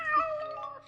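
A cartoon cat gives a single short, bright meow, rising then falling, close and clear with nothing else around it.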